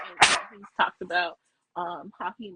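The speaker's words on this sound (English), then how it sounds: "sorry about the dog" A dog barks and yips in short bursts close by, cutting in around someone talking during a podcast recording.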